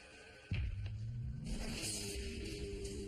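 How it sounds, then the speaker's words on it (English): A Mercedes-Benz car starts abruptly after a quiet moment. Its engine roars up close and keeps revving and rumbling as it drives off, with no talking. "Got in his Mercedes-Benz and took off."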